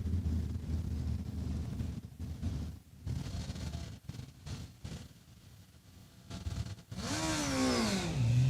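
A drag racing motorcycle makes a pass at Saskatchewan International Raceway, its engine roaring in loud surges broken by gear-change gaps, then a rising, sweeping whine near the end, buffeted by wind noise.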